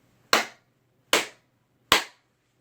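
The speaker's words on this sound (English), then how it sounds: "I do something called the clap technique." Three sharp hand claps, evenly spaced and close to the microphone, each standing alone against near silence.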